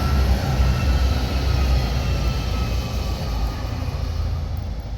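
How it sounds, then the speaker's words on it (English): A tram rumbles past nearby on a street in Zurich, Switzerland, with a steady, heavy low roar and faint high rail whine, constant in loudness throughout. "here you can see the view of a tram passing through the road"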